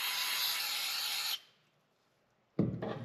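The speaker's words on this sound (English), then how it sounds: "And then we're going to spray off the oil filter cap." Aerosol cleaner sprayed onto the oil filter cap of a 2024 KTM 350SXF dirt bike, a steady close hiss lasting over a second, then a pause and a second spray burst.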